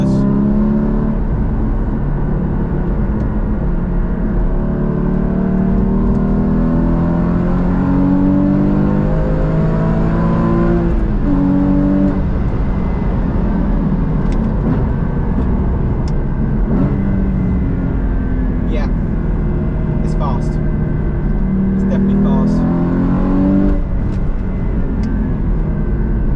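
Porsche GT4 engine revving hard toward 7,000 RPM on a road at national speed limit, a loud sustained howl rising and falling through repeated climbs and gear changes, heard from inside the car with no talk.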